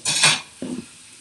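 Girolle mushrooms cooking in a pan, heard as a short clatter of utensil against the pan, then a brief softer scrape or stir.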